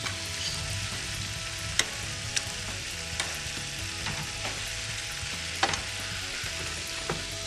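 Floured veal scaloppine frying in a pan, a steady close sizzle with small clicks and occasional sharp pops and taps scattered over about seven seconds, no voices.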